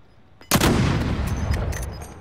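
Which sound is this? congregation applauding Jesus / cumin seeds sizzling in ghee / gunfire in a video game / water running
gunfire in a video game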